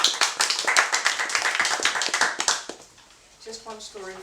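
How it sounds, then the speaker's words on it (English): An audience at a Dutch science fiction reading event applauds after an author is introduced, a dense run of clapping for about two and a half seconds that fades out before a voice begins speaking. "Give her a round of applause."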